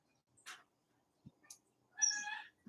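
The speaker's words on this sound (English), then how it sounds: "There's my chicken." A pet chicken makes a few scattered soft calls close by, ending in a louder drawn-out squawk, with quiet gaps between the sounds.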